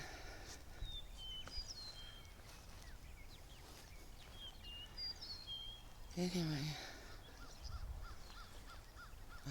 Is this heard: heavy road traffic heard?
no